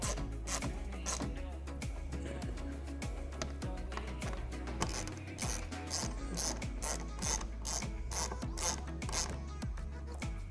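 A hand ratchet tightens the bolts of an aluminum rear splitter kit on a 2015-2020 Ford Mustang, its pawl clicking in a steady, rapid rhythm close to the microphone throughout, with no one talking.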